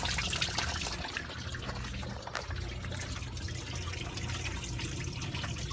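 Coolant water pouring and trickling out of a Duramax diesel engine's removed water pump, a steady close splashing flow that runs unbroken with no talk over it.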